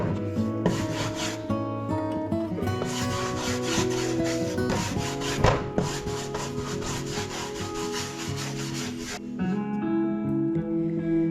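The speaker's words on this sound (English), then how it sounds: "With a cloth, I removed the excess wax in between and after both coats." A cloth rubbing excess clear wax off a painted wooden cabinet makes continuous, loud, close scrubbing strokes in a steady rhythm with a short pause near the end.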